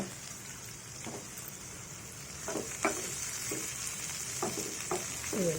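Ivy gourd curry stirred as it cooks in a pan, a soft steady sizzle with occasional spoon scrapes and clinks against the vessel, close and quiet.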